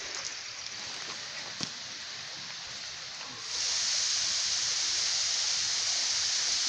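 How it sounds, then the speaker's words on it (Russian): Rushing water of the upper cascade of the Uchan-Su waterfall in Crimea, a steady broadband hiss that grows noticeably louder and fuller partway through, with no voices. "И вот он, верхний каскад водопада."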